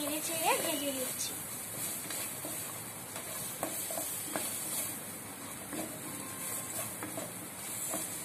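Papaya pieces frying in a pan with salt and turmeric, a faint steady sizzle and hiss with occasional soft scrapes of stirring, under a woman's quiet speech.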